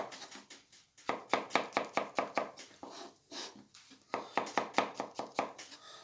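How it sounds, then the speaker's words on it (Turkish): A knife chops mushrooms rapidly on a cutting board in quick bursts of steady strokes, with brief pauses between runs, close and clear. "mantarlarımızı hemen doğramaya başlıyoruz"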